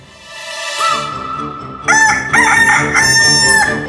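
A rooster crows loudly and close, one long call followed by several overlapping crows that stack up with a bright, brassy, sustained tone.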